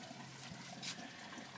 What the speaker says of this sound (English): the water's entering the system in behind all the bushes, but you can hear it